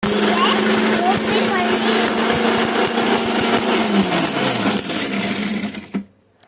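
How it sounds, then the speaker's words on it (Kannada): A mixer grinder whirs loudly and continuously as roasted spices are ground to powder, a steady motor drone with rattling that winds down near the end before cutting to silence. "ಹೀಗೆ ಮಿಕ್ಸಿಗೆ ಹಾಕಿ ರುಬ್ಬಿ ಪೌಡರ್"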